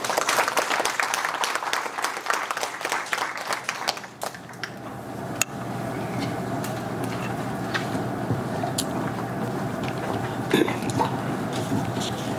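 Audience applause at a medical forum hosted by a national university, loud sustained clapping for about four seconds that then drops to a quieter, steady patter of scattered clapping and room noise.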